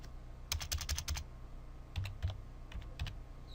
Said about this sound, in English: So I'm going to type HTML.